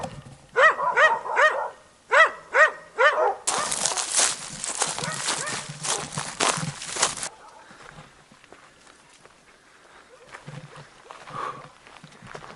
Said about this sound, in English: that dog there just started barking at me